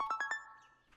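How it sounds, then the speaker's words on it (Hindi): A short electronic ringtone: four quick bright beeps followed by a sustained tone that fades, fairly quiet and close. "तुम्हारा फोन आ रहा है।"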